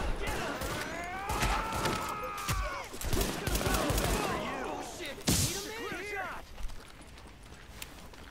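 Bursts of gunfire crack out in a firefight in the video game The Division, sharp shots scattered among quieter stretches with voices talking over the action.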